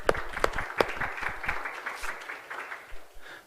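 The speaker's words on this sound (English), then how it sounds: "So give them a round of applause." An audience at a morning worship service claps for camp students, a modest burst of applause with a few loud individual claps at the start that thins out and fades.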